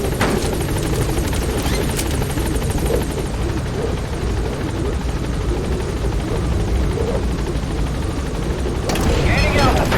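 Pequod helicopter in Metal Gear Solid V: The Phantom Pain, a loud, steady rotor thrum and engine roar filling the whole stretch, with brief sharp game effects near the start and end.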